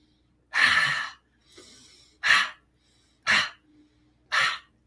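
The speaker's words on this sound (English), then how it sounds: "And then we are going to do the lion's breath" Lion's breath exercise from a qi gong breathwork routine: four forceful, loud exhalations spaced about a second apart, each a harsh rushing breath, with a softer quieter breath between the first two.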